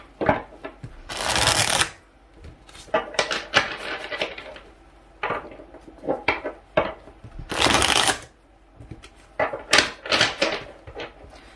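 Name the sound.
shuffling tarot cards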